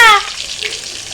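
Vegetables frying in a pan after their boiling water is drained, a steady loud sizzle that starts with a brief sharp burst and then settles into continuous crackling hiss.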